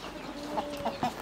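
A village-type Turkish hen, a clean-legged bird laying blue eggs, gives a few short clucks and squawks while being grabbed, close and moderately loud over a steady background hum.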